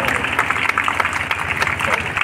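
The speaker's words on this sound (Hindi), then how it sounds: "तेज तालियों के गड़गड़ाहट के साथ" Loud, continuous applause from a large crowd at a Hindi-language lamp-lighting ceremony, dense clapping filling the whole span with voices mixed in.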